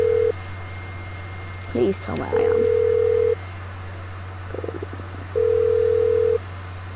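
In the video game GTA 5, a phone call plays out: a steady line hum, then repeated long ringback tones with pauses between them, with a short bit of talk early on.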